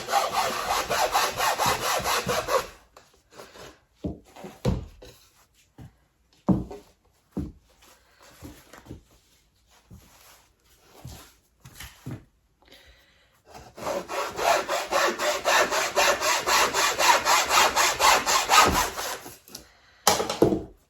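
Hand saw cutting through the wood of a thrift store picture frame, long bursts of fast rasping strokes at the start and end with slower separate strokes between, close and clear.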